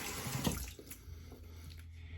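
Cold tap water running briefly over a Henson aluminum razor, a close splashing gush that swells then settles into a softer, steady trickle.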